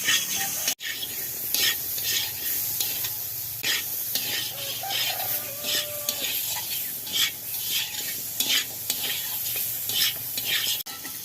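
Garden pumpkin pieces fry with salt and turmeric in a pan, a steady close sizzle broken by repeated scraping stirs of the spatula, with no talking.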